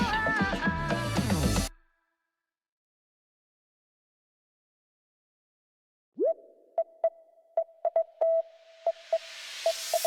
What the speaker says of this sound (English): this kind of sounds like Morse code